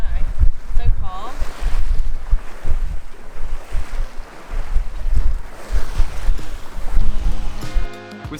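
Wind rushing past a sailboat heading upwind in about 14 knots, a loud continuous buffeting roar with water wash underneath and brief voices near the end.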